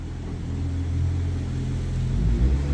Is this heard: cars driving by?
yes